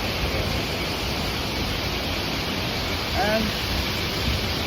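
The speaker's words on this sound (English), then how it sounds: "now we are visiting the small waterfall at the park we used to come." A small waterfall in a park gives a steady, broadband rush of falling water that fills the whole clip, with a brief voice near the three-second mark.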